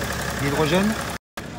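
BMW 3 Series engine idling during a hydrogen carbon cleaning treatment, a steady close mechanical rumble with faint rattle, while someone speaks over it, briefly cut to silence before resuming.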